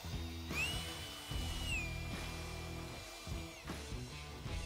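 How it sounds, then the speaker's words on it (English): A cordless drill retracting a trailer jack whirs close by in a few long runs, its motor whine rising and falling in pitch, with short pauses and clunks between runs. "I'm going to use my batcher drill, and I'm just going to retract the jack"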